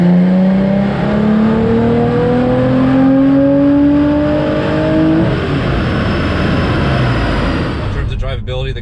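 Car engine revving hard on a dyno, rising steadily in pitch over several seconds as it climbs through the revs, then cutting off into a rushing, whooshing roar near the end; loud and close throughout.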